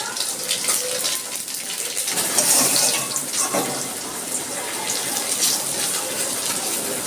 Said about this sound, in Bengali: আমি টকটা ঢেলে দিচ্ছি।